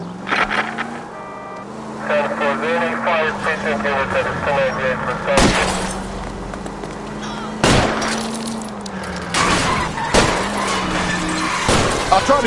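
Sharp gunshots crack out in a tense LA Noire chase as shots are aimed at a fleeing car's tires, several loud isolated bangs spaced seconds apart over a droning engine and voices.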